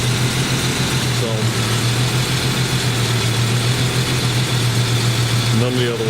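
A Jeep engine idles with one cylinder dropped, a steady low, slightly uneven running note that continues throughout, close and loud, with brief higher tonal blips near the start and end.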